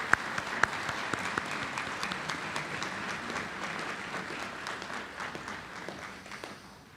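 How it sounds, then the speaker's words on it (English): Audience applause at a university December graduation ceremony, a steady crowd of clapping hands sustained for several seconds at moderate level, with scattered sharper claps, then tapering slightly toward the end. "A round of applause for our prima voces."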